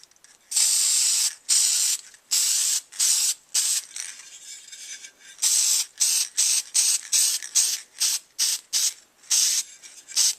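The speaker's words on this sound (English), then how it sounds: "Next, you can spray it with this." Short repeated bursts of hissing spray from an aerosol cleaner can onto an AR lower receiver, quick pumps in an irregular rhythm with a longer hiss partway through.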